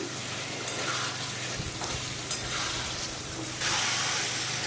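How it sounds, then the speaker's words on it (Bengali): Fried potatoes are stirred into a sizzling spice masala in a pan, with a steady close frying hiss, spoon scrapes throughout and a louder surge of sizzle near the end. Nobody talks. "এবার ভালো করে নাড়াচাড়া করছি।"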